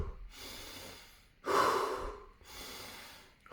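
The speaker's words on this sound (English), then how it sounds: "quick breathing exercise where I just breathe through my nose or through my mouth for 30 times" Quick breathing exercise done through the nose, close and audible: sharp, forceful breaths in and out in a steady rhythm of three bursts, the middle one loudest, with no speech.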